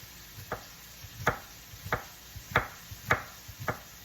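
A knife chops vegetables for vegetable soup on a cutting board, about eight crisp, evenly spaced strokes at close range, quiet and without talk.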